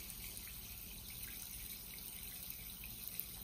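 Water is poured quietly for a tarantula, a soft, continuous faint trickle with a few small splashy drips near the end.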